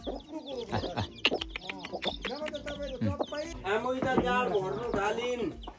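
Chickens and chicks clucking and peeping around a rural Nepali homestead, busy overlapping calls mixed with a person talking throughout.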